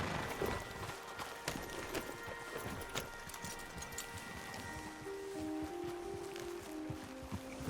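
Horse hooves clip-clop in an open-world Western game, a fairly quiet, steady walking rhythm of soft hoof falls over ambient background, with a few faint tonal sounds near the end.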